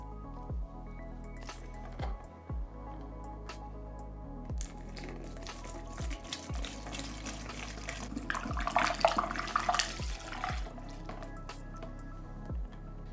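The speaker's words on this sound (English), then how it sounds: "So I'm gonna go ahead and pour this in our fill bottle." Clear mod-water coolant for a water-cooled PC is poured into a fill bottle, a trickling, gurgling stream with repeated glugs that swells into a busier splash partway through.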